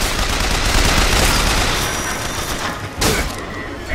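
Heavy, sustained gunfire and booms in the BioShock Infinite video game, loud and continuous throughout, with a sharp blast near the end punching through the din.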